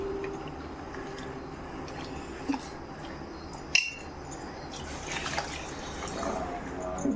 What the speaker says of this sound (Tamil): அதில் லைட்டமாக தண்ணி ஊற்றிக்கோங்க.